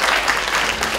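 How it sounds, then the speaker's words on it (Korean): An audience at a regional cancer statistics presentation claps in a brief, dense burst of applause that carries on for the full second. "한번 박수 보내주실까요?"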